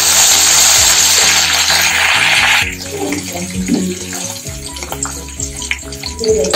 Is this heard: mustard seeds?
yes